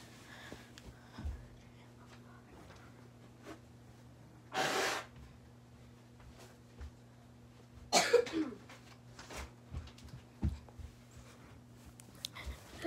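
Two short, breathy blasts of nose blowing, the second a bit longer and rougher, against a quiet room with a low steady hum and small handling noises.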